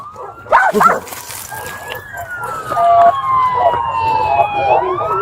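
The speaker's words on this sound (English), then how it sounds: "Dog on the bite, no movement." A Sacramento County Sheriff police dog barks loudly in a few sharp, close bursts, then a wailing police siren rises and sweeps over a rural road scene.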